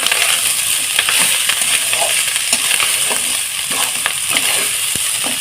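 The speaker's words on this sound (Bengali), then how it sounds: "তারপরে আমি একটু টমেটো কুচি দিয়ে দিলাম" Chopped tomato frying in a hot pan for jeera rice made from leftover rice, a steady loud sizzle with scattered clicks and stirring scrapes, no talking.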